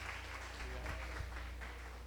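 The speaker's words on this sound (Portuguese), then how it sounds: "Vamos saudar nosso pastor com a salva de palmas em nome de Jesus." A church congregation at an evening teaching service applauds its pastor. The faint, hazy clapping is heard from a distance over a steady low electrical hum and room noise.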